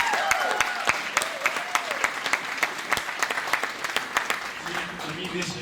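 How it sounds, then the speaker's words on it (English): A modest group at a community champions event applauds with scattered, distinct claps that rise and fall, while faint voices and a few tonal sounds carry underneath. "Let's give him a big round of applause."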